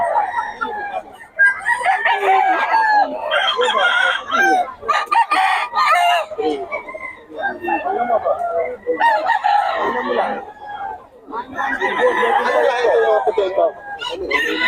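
Gilmore Hatch Henny chickens at a crowded poultry market, with roosters crowing loudly and repeatedly in close, overlapping bursts amid clucking while people talk nearby.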